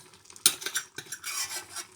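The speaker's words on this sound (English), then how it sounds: "Let me make sure that I take all the lentils out of the other pan" A utensil scrapes cooked lentils out of one pan into a frying pan, a sharp metal clink followed by soft scraping and stirring strokes against the pan, close and fairly quiet.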